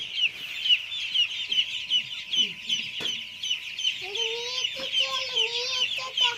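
Chickens cluck steadily in short, rhythmic bursts close by, joined later by longer drawn-out hen calls, with a sharp knock partway through.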